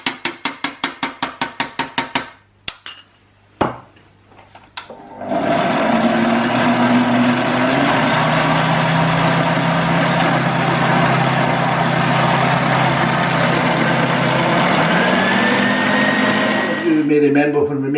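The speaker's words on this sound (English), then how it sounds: "The butter's been whisking for about 10 minutes." Electric stand mixer whipping butter for garlic-style Café de Paris butter, a loud steady motor whir with beater churning that runs continuously for most of the stretch after a few short rhythmic pulses and brief pauses at the start.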